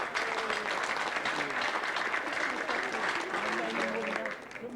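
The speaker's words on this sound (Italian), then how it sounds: "I think you all deserve a round of applause for supporting our function." Guests at a Molinara club anniversary function clap in a dense, sustained round of applause that fills the room and fades slightly at the end, with voices mixed in.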